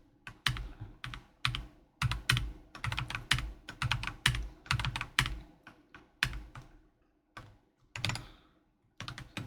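Fast, steady typing on a computer keyboard during a spreadsheet session: dense bursts of crisp, close key clicks with brief pauses between runs, no voices.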